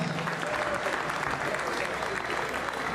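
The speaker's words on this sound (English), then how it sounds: "Round of applause to the ladies." A crowd at an MF & DAZN X boxing press conference gives a round of applause for the female fighters. The clapping is brisk, dense and continuous across a few seconds, moderately loud, with slight crowd noise mixed in.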